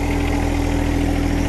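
A John Deere 1025R compact tractor engine idles steadily nearby, a constant low mechanical hum with a fixed throb that stays level and unbroken throughout, with no voices.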